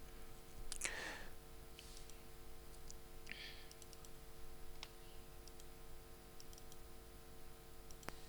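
A computer mouse clicks once near the start during work on a database labels task, a short sharp tick heard over a faint steady background hum, followed by a few much quieter ticks and clicks.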